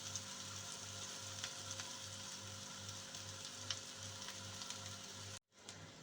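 Sliced onions with salt frying in a pan for Kerala-style pavakka thoran, a steady quiet sizzle with faint crackles and a low regular pulsing hum underneath, cut off by a brief silence near the end.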